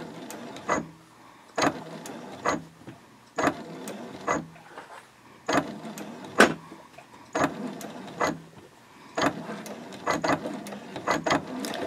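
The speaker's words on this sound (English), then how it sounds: "And then you'll just continue sewing all around the cover in the same manner" Home sewing machine stitching around the edge of a fabric composition notebook cover, pivoting one stitch at a time at the corners, in short mechanical bursts with brief pauses between runs, close and fairly loud, no talking.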